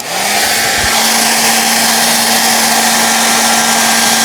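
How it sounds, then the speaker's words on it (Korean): A hair dryer runs loud and close, a steady broadband blowing whoosh with a constant motor hum that switches on at the start and holds without a break. "하나는 드라이기를 켜볼 거고요"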